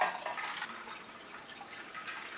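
A Commando cocktail, similar to a whiskey sour and made as two drinks, is poured out of a cocktail shaker: a steady, close splashing trickle of liquid for a couple of seconds, with no talking.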